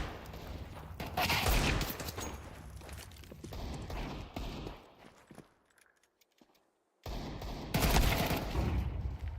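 Pistol gunfire in a Counter-Strike pro league match, loud rapid shots and clattering action up close, dropping to near silence for a moment before another intense volley of shots.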